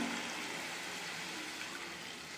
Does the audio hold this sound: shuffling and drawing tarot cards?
no